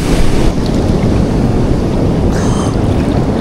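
Ocean waves crash against coastal rocks at a beach in Deepwater National Park, Queensland, a loud, continuous roaring wash of surf with heavy wind buffeting the microphone and no voices.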